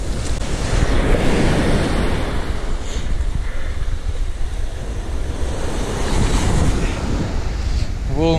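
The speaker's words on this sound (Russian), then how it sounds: "Волны сильные, но ничего." Strong Mediterranean sea waves break and surge close by on an Israeli shore, heavy rolling surf mixed with gusty wind buffeting the microphone, swelling and easing in cycles.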